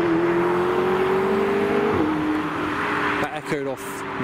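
A McLaren GT departs a car show, its engine note held steady and then dropping as it shifts, loud and close before fading into crowd murmur and engine echoes.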